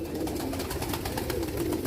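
Fantail pigeons coo in a low, steady murmur, close and continuous over a busy background.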